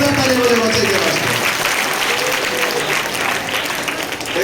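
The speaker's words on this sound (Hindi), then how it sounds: "और एक बार जोरदार ताली बजाओ बच्चे के वास्ते" Loud, dense applause fills a primary school Republic Day gathering, where an audience claps steadily for someone speaker throughout, easing slightly toward the end.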